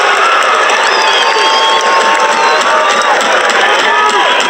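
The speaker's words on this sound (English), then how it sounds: "But soon the home crowd had something to cheer for." A home crowd cheers at a rugby match, a loud, continuous roar of massed voices with whistles rising above it throughout.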